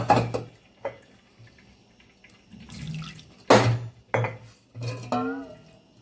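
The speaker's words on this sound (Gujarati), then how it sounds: "એની અંદર ભાતને ઉમેરી દેવાના છે અને ભાતને ઓસાવી લેવાના છે આવી રીતે" Cooked rice is tipped into a colander to drain, with water splashing and pouring in short bursts and metal dishware clanking nearby, close and fairly loud.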